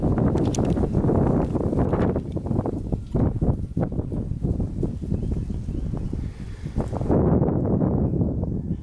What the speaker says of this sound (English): It's windy. Sorry, I don't have a wind microphone